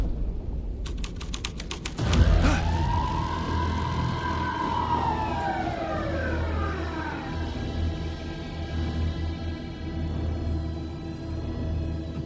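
Police car siren in the video game Alan Wake 2, starting suddenly with a loud burst and settling into a sweeping wail that rises and falls over a steady low rumble, with a brief clicking pattern just before it begins.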